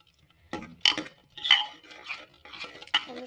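A spoon scrapes and clinks against a pan as turmeric and spices are stirred for a jackfruit curry, giving several close, separate metallic taps and scrapes amid quiet pauses.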